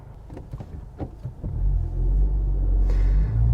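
A 2021 Honda Civic Type R Limited Edition sets off after a few faint interior clicks and thumps, and a deep, steady engine and road rumble builds up and holds, heard from inside the cabin.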